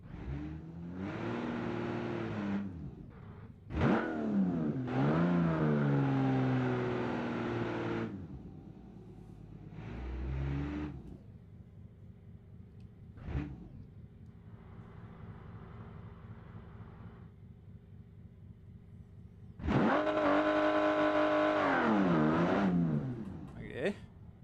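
A car revving hard past 6,000 RPM in a quarter-mile drag race, several rising engine sweeps broken by gear changes, separated by quiet gaps, with people talking between the bursts.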